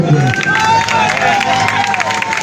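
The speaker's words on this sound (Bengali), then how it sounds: "সকল নেতৃবৃন্দের জন্য আরেকবার হাত দুইটা উপরে দিয়ে সকলের একটা তালি চাই" Crowd applause and cheering at a puja gathering, a steady dense wash of clapping and crowd noise mixed with a voice, running throughout without a break.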